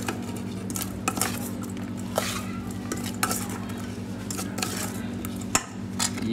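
Cream, green chili paste and paneer being mixed in a bowl for paneer tikka rolls at a street food stall, continuous close scraping and clinking of a spoon against the bowl, with kitchen hum and occasional knocks.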